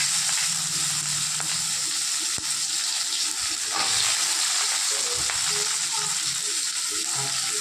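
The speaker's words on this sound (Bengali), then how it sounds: "পেঁয়াজটা ভাজা ভাজা হবে তারপর দেব টমেটো আর দেব আদা" Steady, loud sizzling of chopped onions frying in a wok with nigella seeds, with a few scraping stirs and occasional clinks throughout.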